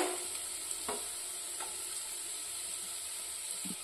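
Food tossed in a pan with tempering spices, a faint steady hiss with a couple of soft spatula scrapes, quiet and close.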